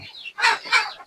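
A young chicken kept in a box gives two short, raspy clucking calls in quick succession, close and fairly loud, preceded by a faint softer note.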